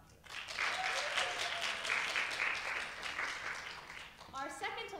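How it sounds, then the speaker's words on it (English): Cabaret night audience breaking into applause and cheers, a sustained wash of clapping that rises quickly and tapers before a voice resumes speaking. "So let's hear a round of applause for Alexa Prim, our stage manager"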